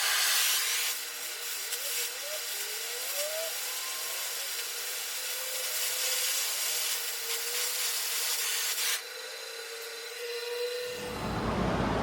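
An oxy torch heats a steel bend on a Triumph chopper frame, giving a steady, loud hiss that runs almost unbroken for about eleven seconds before cutting off. No voices.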